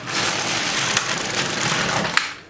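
An LK150 knitting machine carriage slides across one row of needles, giving a continuous close rasping whir with a few small clicks, fading at the end.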